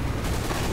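Dense, continuous gunfire from the video game Team Fortress 2, a brief loud burst of rapid shots filling the whole moment with no gap.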